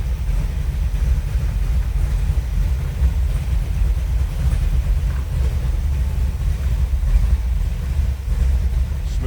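A 1968 Chevrolet C10 with a 350 V8, Edelbrock intake and four-barrel carburetor idles steadily, a deep, even, close-up rumble with some wind noise over the microphone.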